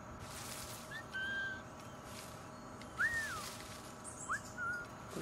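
Short rising and falling whistles from a player in Assassin's Creed Black Flag, sounding as a few separate calls spaced over several seconds above steady game ambience, with no talk.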